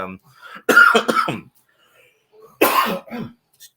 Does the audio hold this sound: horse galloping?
no